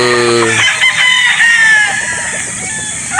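Chickens cluck and a rooster crows nearby at a game farm in Batangas, overlapping calls from several birds in a lively barnyard chorus.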